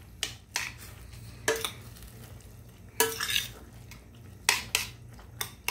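A spoon stirs crushed sardines in a cooking pot of kangkong, scraping and clinking against the metal in irregular bursts, each a second or so long, over a quiet simmer.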